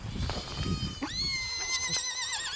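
Goats and ponies scream on a farm where a miniature horse is being weaned, with long wavering high-pitched bleating and whinny-like cries rising from about a second in and holding nearly continuously, close and loud over low rumbling background.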